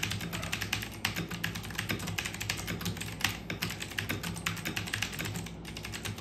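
Rapid, steady keystrokes on a computer keyboard during a speed-typing run on a low-spec PC running Arch Linux, close and continuous for the whole stretch with no voices.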